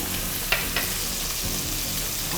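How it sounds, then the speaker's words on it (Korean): Peeled, cleaned shrimp frying in garlic-infused oil in a pan, a loud, steady sizzle with water spattering and a couple of sharp pops near the start. "지금 이렇게 새우가 들어가면 지금 물이 튀잖아요."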